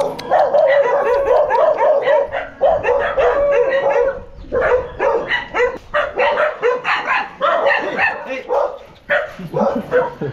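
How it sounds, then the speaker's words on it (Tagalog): A pack of dogs barks and yips repeatedly nearby in irregular bursts, loud and close, with some whimpering mixed in and brief human voices among them. "Ang daming aso."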